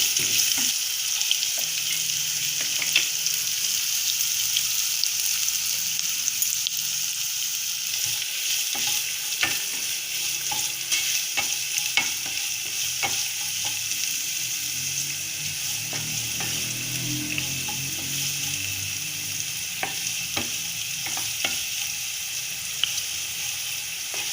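Sliced onions with salt sauté in a pan for restaurant-style chana masala, a steady close sizzle over nearly half a minute with frequent scraping stirs and soft ladle taps, no voices.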